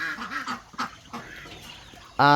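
Peking ducks in a small farm flock give a few nasal quacks, ending in a louder, closer honking call.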